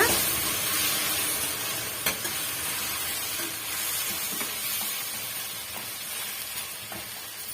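Chopped tomatoes sautéing in a pan, with a soft continuous sizzle and faint occasional stirring scrapes, fairly quiet throughout.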